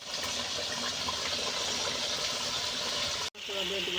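Water gushes steadily into a pot of broiler chicken curry with potatoes for about three seconds, loud and close, then cuts off abruptly.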